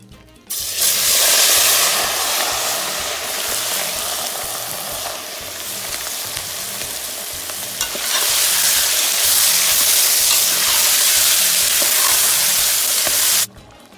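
Shrimp sizzle loudly in hot oil, a steady bright frying hiss with occasional stirring, lasting the whole time with no talking.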